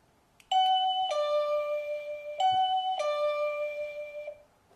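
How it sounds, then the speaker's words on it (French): Wireless electronic door chime ringing twice in succession, each a clear two-tone ding-dong with bright ringing tones that sustain and decay, close and loud in a quiet room. "on va brancher notre carillon"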